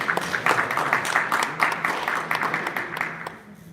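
Applause from a crowd for a boxing champion on stage at a live weigh-in, a bright, steady burst of many hands that fades toward the end, with voices faintly underneath.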